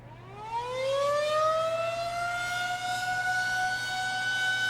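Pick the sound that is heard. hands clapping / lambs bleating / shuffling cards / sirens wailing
sirens wailing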